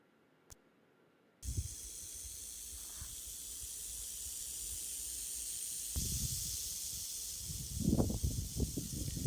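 A Mojave green rattlesnake's rattle, a sustained dry buzzing hiss that begins abruptly and continues steadily, close by, with some rustling and handling noise later.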